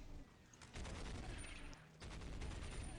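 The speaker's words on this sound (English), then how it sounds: "Graviton cannon sounds very cool." Graviton cannons fire in Dawn of War Soulstorm Ultimate Apocalypse, bursts of rapid rumbling shots in two volleys, low and fairly faint in the game mix.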